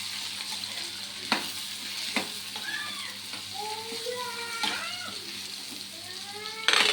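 Carrot pieces and green peas being stirred together in a pan, a soft steady sizzle with a few sharp spatula knocks and faint squeaky chirping tones in the background, fairly quiet and close.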